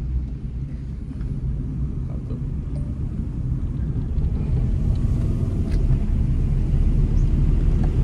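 Steady low engine rumble and road noise from inside a car climbing a foggy mountain road near Marleshwar, a constant drone that grows slightly louder toward the end, with no talk.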